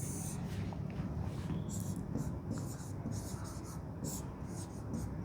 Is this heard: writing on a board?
yes